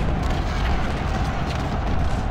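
Cannon fire in the Civil War strategy game Ultimate General: Civil War at the battle of Fredericksburg, a steady loud rumble of booming artillery filling the whole stretch with no clear pauses.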